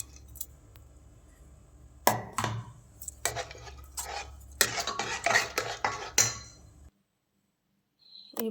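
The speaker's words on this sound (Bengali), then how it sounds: "সেদ্ধ আলুটাকে স্ম্যাশ করে সেদ্ধ মটরটার মধ্যে ওটা মিশিয়ে দিলাম।" A spoon clanks and scrapes against a metal pot while smashed boiled potato is mixed into boiled peas for ghugni. The knocks come in irregular clusters, close and clear, with a quiet gap before one last clink.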